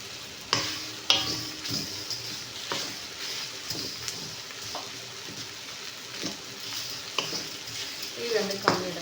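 Cumin seeds dry roasting in a pan, with a soft continuous sizzle and repeated scraping and clinking stir strokes at irregular intervals, close by, with a fan running in the kitchen.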